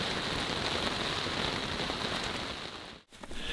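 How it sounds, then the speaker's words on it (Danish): Steady, heavy rain drums on a sailboat during a summer sailing trip, a loud dense patter that briefly cuts out near the end before resuming. "sådan som det ser ud nu, så skal det her regnvejr, det skal fortsætte i mange timer endnu."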